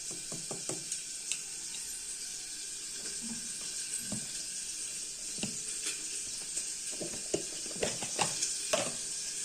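Cumin seeds frying in hot oil give off a constant bright hiss, broken by scattered small pops and crackles that come in clusters, heard up close with no speech over them.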